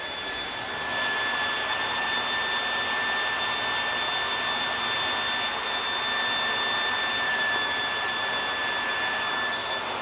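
A workshop dust collector runs steadily through a table saw rip cut, a loud continuous whooshing roar with a thin high whine on top, no voices, holding even from start to finish.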